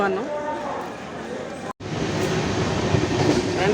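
Continuous rumbling of the Sai Nagar Express passenger train, with a brief cut partway through and a person talking over it.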